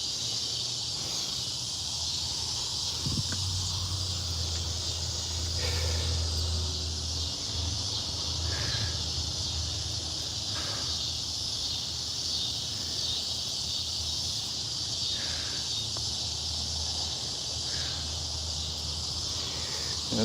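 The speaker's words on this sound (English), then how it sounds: "you can hear the cicadas" Cicadas buzz in a steady, shrill drone that fills the whole stretch, with a faint low rumble beneath and no talking, in a tomato garden toward dusk.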